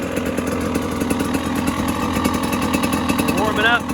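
A KTM 300 XC-W two-stroke dirt bike engine idles steadily as it warms up, a loud, close, buzzy and rattling drone that holds constant, with a brief rising rev near the end.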